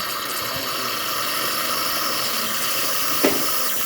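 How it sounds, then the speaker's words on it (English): Steady, loud hiss of steam jetting from a Gaggia espresso machine, with a brief sputtering burst near the end. "There you go, pretty good steam."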